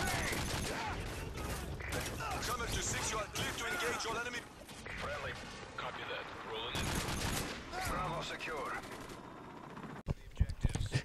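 Semi-automatic rifle fire in Call of Duty Modern Warfare 3: dense, loud bursts of rapid shots, interrupted by short gaps and other battlefield game noises.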